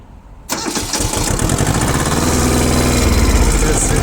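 A Shibaura SU1341 two-cylinder diesel compact tractor cranks and fires after a moment of quiet, then settles into a loud, close, chugging idle.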